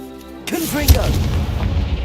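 A Confringo fire spell goes off in Hogwarts Legacy as a deep booming blast with a sharp whoosh, heard just after a voice shouts the incantation over the game's background music.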